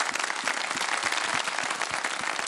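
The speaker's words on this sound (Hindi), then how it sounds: "जो जो भी ये कर रहे हैं उनके लिए तालियां बजा दें भाई" Audience at a Nannhe Mehmaan show applauding, dense sustained clapping from a crowd filling the whole moment with steady even loudness and no talk over it.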